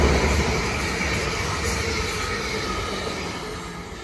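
A South Western Railway passenger train bound for Weymouth passes through Raynes Park station with a steady, loud rumble of wheels and carriages, fading slightly over the few seconds with no voices.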